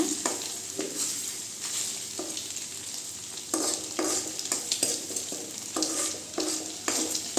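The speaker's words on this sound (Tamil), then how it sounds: "எல்லாம் நல்லா கலந்து விட்டுக்கலாங்க அப்படியே நல்லா இந்த மாதிரி பரத்தி விட்டுக்கலாங்க" Egg fry mixture stirred and spread across a hot pan, with a steady oil sizzle under repeated scraping strokes of a spatula, close and fairly loud, no voices.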